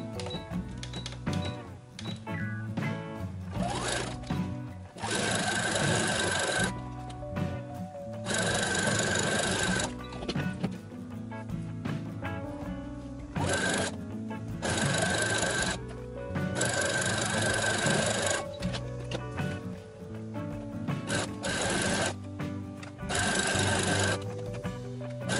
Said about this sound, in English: I'm going to have to do a zigzag stitch on each side